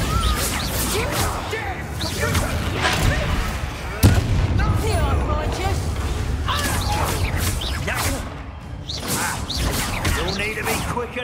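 Bombarda blasting spells explode during a Hogwarts Legacy battle, a dense run of booms, crashes and whooshing magic bursts with one sharp blast near the middle, while voices shout over the fight.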